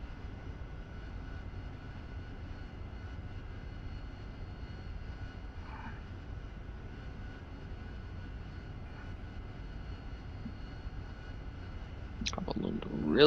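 Steady low engine drone of an AV-8B Harrier jet in the DCS flight simulator, a constant hum with faint tonal whine, rising briefly into a louder burst near the end.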